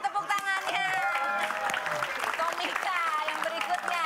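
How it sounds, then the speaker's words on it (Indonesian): An audience at an Indonesian comedy stage show claps and cheers in a dense burst of applause, with excited shouts and voices mixed through the crowd noise. "Tepuk tangannya mana? Tepuk tangannya."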